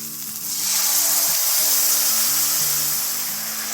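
Chutney ingredients, including tamarind powder and sugar, sizzle steadily in a hot pan, a loud close hiss that swells after a brief quieter start, with a low hum beneath.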